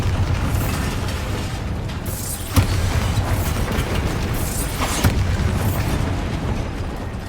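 Bombarda blasting spells cast in a Harry Potter video game, dense crackling bursts and rumble with two sharper booms standing out over a continuous loud roar.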